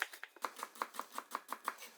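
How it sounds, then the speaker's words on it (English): A knife chops shallots on a board, about eleven crisp, evenly spaced taps in quick steady rhythm, close and fairly quiet, with no voices. "make little slits into them, and then just chopping down"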